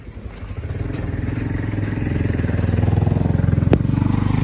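A motorcycle engine idles and revs with a steady putter, close and loud, growing slightly louder, with one sharp clank partway through.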